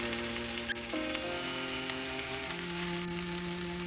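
A soya keema mixture with mashed potato, chopped coriander leaves and salt sizzles steadily as it sautés in a pan, with soft scraping and light clinks over a faint background hum.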